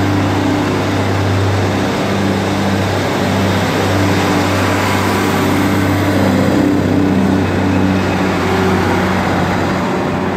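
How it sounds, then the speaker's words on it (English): A Class 156 Northern diesel multiple unit departs a station, its engine drone and exhaust blowing loud and steady, with a low hum running throughout. "156, 488 is now departing with the 1739 Northern service to"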